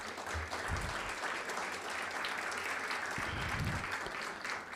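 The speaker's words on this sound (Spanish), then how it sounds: "para quien pido un aplauso." An audience at a historical society gathering applauds a guest chronicler from Zaragoza, a steady, moderately loud spread of many hands clapping, with a few low thumps and murmurs beneath.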